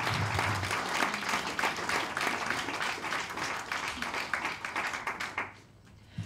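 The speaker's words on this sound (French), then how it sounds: "Et je demande là un applaudissement." An audience applauding translators at a talk on alternatives to capitalism: dense, steady clapping from a roomful of people that runs for several seconds, then fades out near the end.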